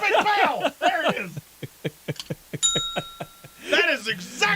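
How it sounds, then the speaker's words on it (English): A small hand bell rings in a quick run of bright, sharp strikes with one longer ringing tone, close to the microphone, with someone talking and laughing before and after. "where is my stupid bell? There it is."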